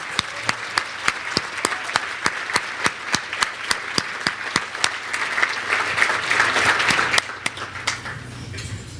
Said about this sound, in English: we'll give you a round of applause